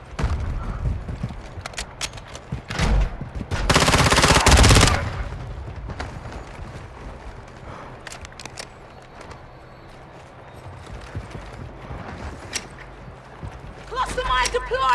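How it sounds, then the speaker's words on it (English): Gunfire in Call of Duty DMZ: a loud, dense automatic burst erupts near the middle, with scattered shots and game noise around it and players talking throughout. "You are taking effective fire."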